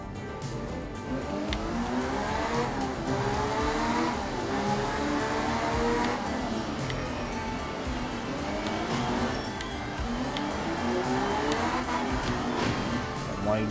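A rally car engine in the racing game art of rally drones steadily throughout, rising and falling in pitch as it revs through gear changes, with someone talking over it.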